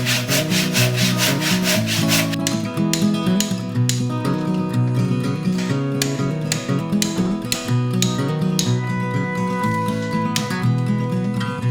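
Steady abrasive grinding on scrap metal being cut down for a double sledgehammer anvil, a continuous loud rasping whine with a shifting tone, close up and without pause throughout.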